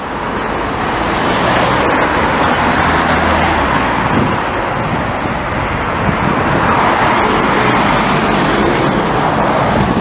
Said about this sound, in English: all the traffic's backed up